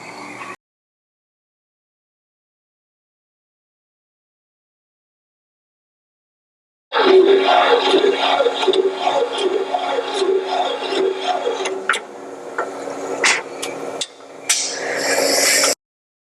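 Machining of valve seats in an engine block at a machine shop: after a brief sound and a long silence, a steady scraping, rattling cut with a rhythmic grinding pulse runs for several seconds, then sharp metallic clicks and knocks.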